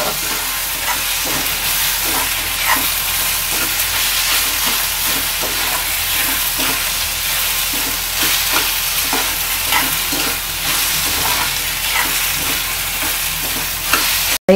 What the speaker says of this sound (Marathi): तो पण चांगला आता तेलात परतून घेऊया।